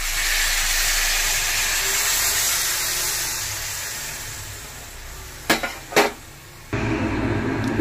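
Water poured into a hot pan of frying crab bursts into a loud, broad hiss that slowly dies down. A few sharp clatters follow, then the sizzling picks up again.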